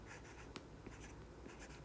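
Pen or pencil writing a single English word by hand on paper, faint close scratching strokes with a few small taps, alone without talk.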